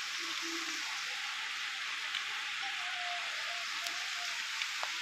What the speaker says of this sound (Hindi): बरसात